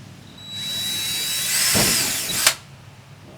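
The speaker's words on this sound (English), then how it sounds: "Time to get the drill." An electric drill whines steadily for a couple of seconds, rising in pitch as it bites through a metal rivet on a 2006 Fleetwood Niagara pop-up camper, then stops abruptly.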